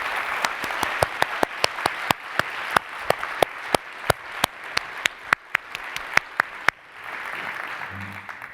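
Scattered individual hand claps ring out sharply and unevenly at a closing session of a conference, a thin round of applause for the planning and support team that thins out and ends in quiet room tone.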